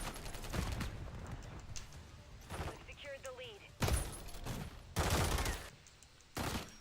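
Gunfire in Call of Duty MW3 during a hardcore kill confirmed match, with loud bursts of automatic fire and a few separate shots over a busy game soundscape, plus some radio-style voice callouts.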